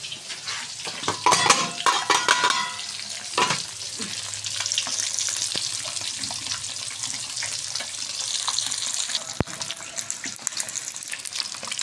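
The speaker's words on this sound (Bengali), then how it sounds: "ডিমগুলো প্রায় ভাজা হয়ে গিয়েছে, এখন ডিমগুলো আমি নামিয়ে ফেলবো।" Eggs fry in a pan, with loud sizzling and stirring scrapes near the start before settling into a steady hiss, joined by running water in the background.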